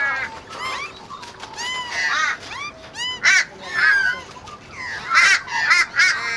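Crows caw repeatedly in an urban setting, a series of harsh calls at moderate distance over faint background noise, some overlapping as several birds call.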